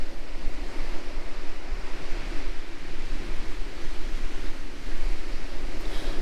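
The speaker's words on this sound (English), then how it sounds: "the sea's on a big surge back out now" North Sea surf surges in a steady, dense roar along the Holderness coast at Withernsea, with wind buffeting the microphone, loud and continuous with no voices.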